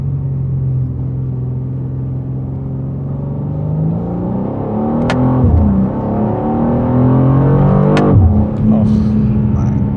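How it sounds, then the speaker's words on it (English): A 2024 BMW M2 accelerates hard on the throttle, its engine note rising steadily and growing louder across the stretch, with sharp gear-change blips near the middle and end; a voice speaks briefly over it. "if you keep going on the throttle, like it keeps giving more"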